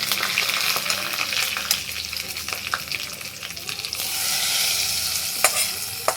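Onions frying in a pan give a steady close sizzle, with scattered scrapes and taps from stirring and a slightly louder hiss toward the end, no one talking.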